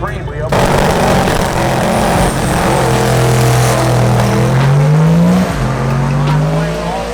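A race car at a drag-racing after-meet accelerates hard, its engine note climbing steeply and dropping at each gearshift before rising again, loud and close throughout.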